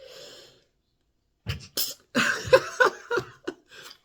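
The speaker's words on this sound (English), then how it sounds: "In every video, you see me sneezing, right?" A short burst of sharp, explosive sneezing sounds up close, several quick bursts in succession after a brief faint noise and a pause.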